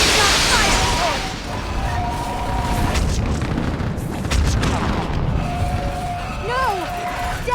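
Artillery fire support in the video game Mass Effect 3, with heavy booming explosions rumbling across the battlefield, several sharp blasts mid-way amid ongoing combat noise, whistling tones, and voices shouting over it.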